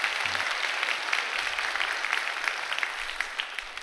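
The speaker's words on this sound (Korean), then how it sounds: "다시 한번 영광의 박수 한번 크게 하겠습니다." A church congregation applauding during a Sunday service, a dense steady patter of many hands that continues throughout and slowly thins toward the end.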